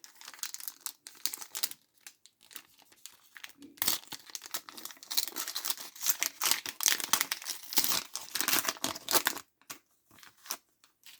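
A Hot Wheels booster pack is torn open by hand: loud, close crinkling and ripping of plastic and cardboard in irregular bursts with short pauses between.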